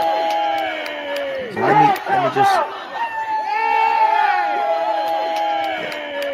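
A small crowd cheers and whoops in a played recording, a short burst of voices rising over ongoing speech and chatter.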